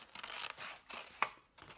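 Scissors cutting paper while making window pictures, soft snipping and rustling strokes with one sharper clip near the end, quiet and close.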